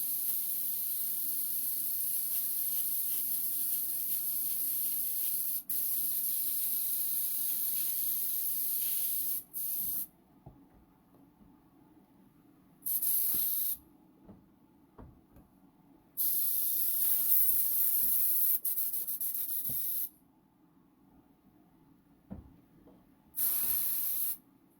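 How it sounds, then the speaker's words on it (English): An airbrush sprays in long loud hissing bursts while being cleaned during pumpkin work, cutting off abruptly into near silence between several separate blasts, with small clicks and handling noise underneath. "Just cleaning my airbrush while that foam sets."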